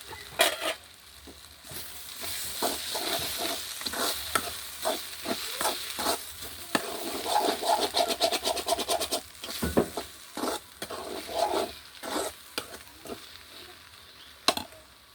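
Ivy gourd and egg thoran with ground pepper is stirred in a pan, a run of repeated scraping spatula strokes over a faint sizzle, close and rhythmic, with no speech.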